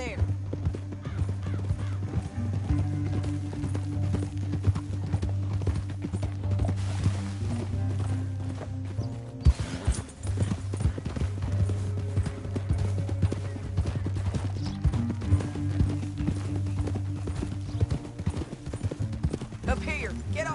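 Horses galloping in Red Dead Redemption 2, a western video game: continuous rhythmic clip-clop of hooves, with a game score and character dialogue running over it throughout.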